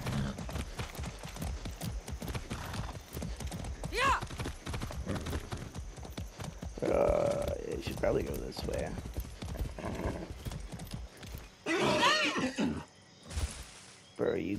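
Hooves clip-clop steadily while a horse whinnies a couple of times, all under continuous talking in the video game Far Cry 6.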